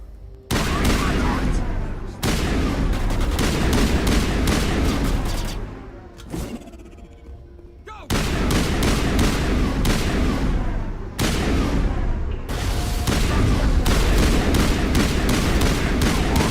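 Gunfire in a classic space RPG video game: long bursts of dense, loud rapid shots and booms, broken by short pauses, with no talk.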